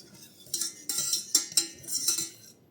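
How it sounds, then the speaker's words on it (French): A utensil stirs eggs in a saucepan set in a water bath, making a series of scraping, clinking strokes against the metal in an irregular rhythm, close and fairly quiet. "donc je remue mes œufs."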